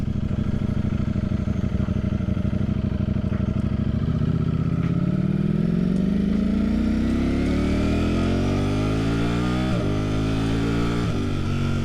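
A Ducati Streetfighter V4 motorcycle accelerates onto a freeway, its engine rising steadily in pitch through the gears with loud, continuous wind noise and a quick shift near the end.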